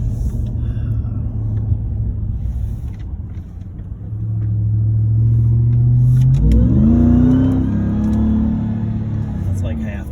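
A Ram TRX pickup truck's engine revs at half throttle, the rumble climbing in pitch and loudness midway before holding steady, close by with people talking over it.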